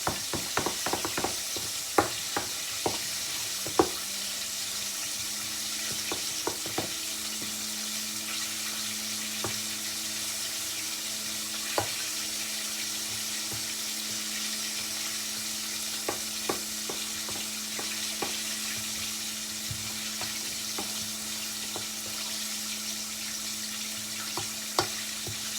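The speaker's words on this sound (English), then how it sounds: "mix this chocolate cake up by hand" Chocolate cake batter is mixed by hand in a bowl, giving a continuous wet stirring swish with frequent light clicks of the utensil against the bowl, close and steady throughout, with no talking.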